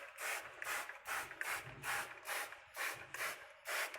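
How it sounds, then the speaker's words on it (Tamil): Repeated spritzes of cleaner from a hand spray bottle inside a fridge during cleaning, about eight short hissing bursts in a steady rhythm, close and fairly loud with no talk. "எல்லா இடத்துலையும் நல்லா ஸ்ப்ரே பண்ணிவிடுங்க."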